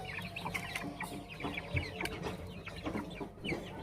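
A group of chickens clucks steadily, busy overlapping calls close by with no one speaking.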